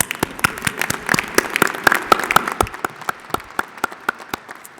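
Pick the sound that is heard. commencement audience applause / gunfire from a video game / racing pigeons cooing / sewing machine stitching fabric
commencement audience applause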